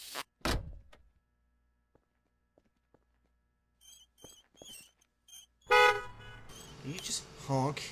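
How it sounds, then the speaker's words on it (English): A tricycle horn in Garry's Mod DarkRP honks in a few quick, bright toots amid sparse game noises, followed by louder chatter and speech. "Honk his tricycle at me."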